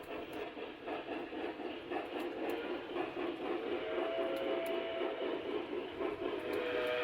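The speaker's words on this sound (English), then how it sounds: "A C&O mallet pulling a long line of ore cars." A model train, a C&O Mallet locomotive pulling a long line of ore cars, rumbles steadily with faint rail clicks, continuous and moderately loud throughout.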